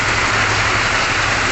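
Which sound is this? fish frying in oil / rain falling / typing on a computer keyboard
rain falling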